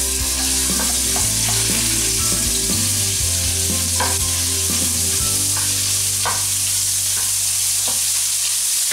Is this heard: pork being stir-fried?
yes